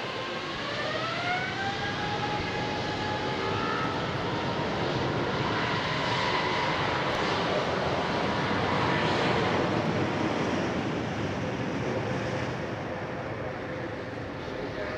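An Airbus A350 development test jet takes off at the Farnborough Air Show, producing a loud, continuous roar with a rising engine whine that holds steady throughout.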